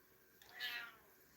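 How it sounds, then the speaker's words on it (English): A cat meows once, a short clear call rising and falling, fairly close, alone against a quiet room. "She said meow back."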